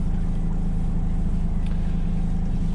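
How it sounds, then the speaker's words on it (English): A Shetland 4+2 boat's engine runs steadily while cruising, giving a loud, constant low drone with no talk over it. "Engine's running nice."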